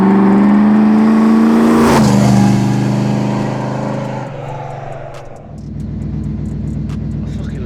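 A Chevy Camaro Z28 engine roars loud and close, rising to a high rev, then easing to a steady throaty idle with a low rumble.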